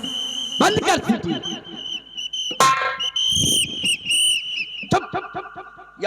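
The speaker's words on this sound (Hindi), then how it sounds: "बंद कर सीटी।" Shrill whistle blasts blown repeatedly during a rural Hindi nautanki folk stage play, piercing and loud, mixed with raised voices and crowd noise around them.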